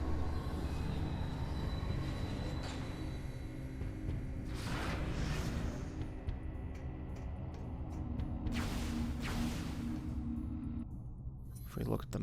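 Train ride in the video game Metroid Prime 3: Corruption, a continuous low rumble of a moving train with two swelling whooshes passing by, heard close and steady throughout.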